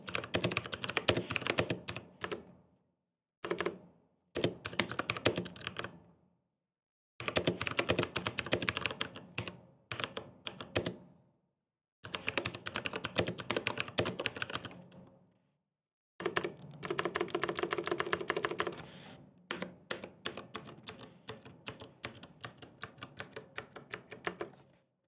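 Clicky Cherry MX Blue switches on an ROG Falchion mechanical keyboard type in quick bursts of rapid keystrokes, separated by short silent pauses, close and alone.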